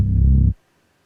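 A Reese bass synth patch with its filter and EQ bypassed plays one thick, heavy low sustained tone for about half a second before cutting to silence.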